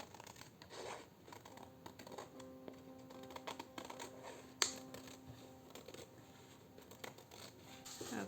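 Scissors trimming paper for a handmade journal, quiet snipping and paper rustling in close, irregular bursts with small handling clicks.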